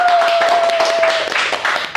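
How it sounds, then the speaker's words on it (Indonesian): An audience claps for Moeldoko, chief of presidential staff, at a comedy roast, producing a short burst of continuous, fairly loud applause. "Tepuk tangan untuk Bapak Muldoko."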